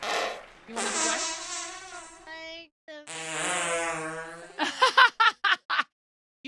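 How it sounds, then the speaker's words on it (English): A series of fart sound effects plays loudly, long buzzy blasts followed by a quick run of short sputtering pops, with little else underneath. "You don't like the fart sounds?"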